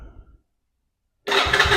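A 110cc Chinese ATV engine being cranked: a short rumble, a second of silence, then a sudden loud, steady mechanical whir up close.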